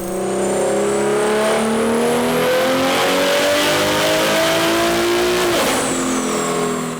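A 1100 whp BMW G80 M3 running JB4 Map 5 with a 4-port solenoid pulls hard on a dyno, its engine note climbing steadily in pitch through the gears, loud and close, then cutting off sharply near the end.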